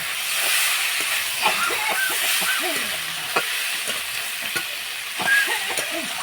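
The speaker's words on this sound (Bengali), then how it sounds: "তারপরে আমি এঁচড়টা ভালোভাবে ভেজে নেব।" Boiled green jackfruit fries in a spiced pan with a constant close hiss and sizzle, while a utensil stirs and scrapes at irregular intervals.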